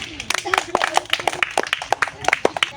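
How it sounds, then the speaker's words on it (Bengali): A crowd claps at an outdoor fun game event where players kick a ball into a drum, producing a dense run of sharp, uneven handclaps at moderate loudness with voices faintly mixed in. "সকলে জোরে হাততালি।"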